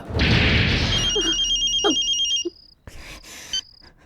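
A telephone rings in a Hindi action film scene: bright repeated electronic ring tones sound loud and close, broken by short pauses, with a brief burst of noise in between and no talking.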